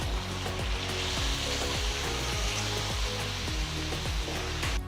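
Chopped tomatoes fry in a hot kadai with a steady, loud sizzle and crackle, alongside a faint rhythmic knocking or stirring pulse throughout, with no voices.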